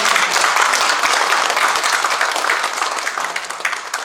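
Steady applause from a crowd at a poetry reading, dense clapping that holds throughout and tapers slightly toward the end, with no voices over it.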